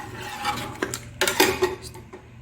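A spoon stirs coriander into cooked black masoor dal in a pot, giving soft wet stirring and several clinks of utensil against the vessel, close up.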